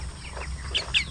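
Chickens on a poultry farm cluck and call in short, bright bursts over a steady low background hum, with two sharper calls near the end.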